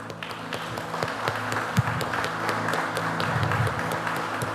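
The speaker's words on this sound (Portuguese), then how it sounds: "Você pode aplaudir o Senhor?" A church congregation applauds steadily, a dense wash of clapping holding for several seconds at a fairly even level.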